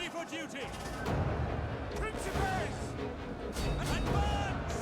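Battle clamour from Total War: Rome 2 with javelins hurled by troops, heard as a dense, continuous roar of impacts, thuds and crashes with shouting voices layered throughout, loud and busy for the whole stretch.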